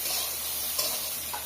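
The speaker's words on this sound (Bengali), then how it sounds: "আলুটা একটু ভেজে নেব।" Potatoes fry in a pan with a dense, bright, continuous sizzle close up, with a faint stirring scrape partway through.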